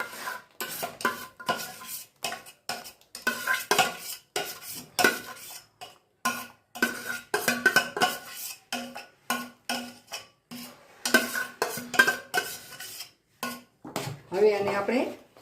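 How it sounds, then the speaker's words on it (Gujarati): A spoon scrapes and clinks steadily against a metal pot while stirring a thick milk mixture for kulfi. The strokes are close and rhythmic and continue throughout. "એને આપણે હલાવી લઈએ. હવે આવી રીતે આમ હલાવતા રહીશું."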